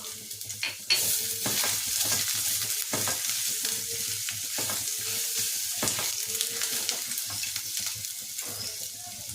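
Green chillies and grated ginger sizzle and fry in a pan, a steady crackling hiss broken by repeated scraping stirs, close up with no talk.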